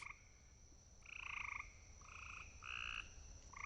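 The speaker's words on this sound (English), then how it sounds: "gray tree frogs that are very bird-like" Gray tree frogs trill in short, bird-like bursts, several overlapping pulsed calls about half a second each, repeating in quick succession, clear but moderately distant over a faint background hiss.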